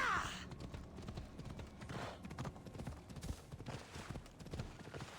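Steady clip-clop of horse hooves at a walking pace in Assassin's Creed: Odyssey, fairly close, with game ambient sound beneath and no talking.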